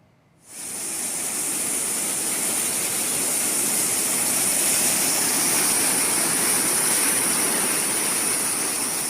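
Flash floodwater from a breached Tuntang River embankment in Demak, Central Java, roars in a loud, steady, broad rush that starts abruptly and continues unbroken.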